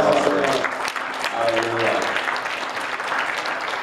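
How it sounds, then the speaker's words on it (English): A church congregation claps together in a warm burst of applause, fairly close and sustained, while a voice calls out over the clapping. "Let's give God a clap."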